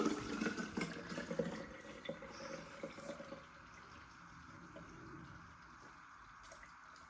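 Fresh orange juice poured into a bottle at home, a soft, faint splashing and trickle of liquid that runs steadily, heavier at first and thinning toward the end.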